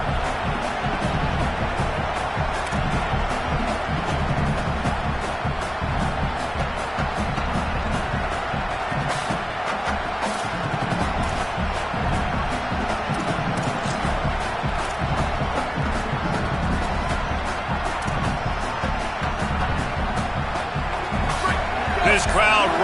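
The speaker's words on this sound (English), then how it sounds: "This crowd rising up, sensing that its defense needs some help" Large football stadium crowd at a Tennessee versus Indiana game roaring steadily and swelling with cheers, a dense continuous wall of voices, with a commentator talking over it.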